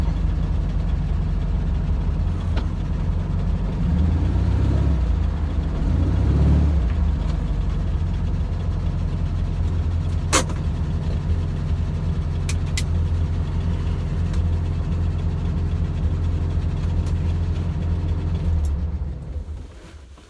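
Volkswagen car engine droning steadily while driving, a loud, continuous low rumble with slight swells, heard from inside the car and fading out near the end, with no talking.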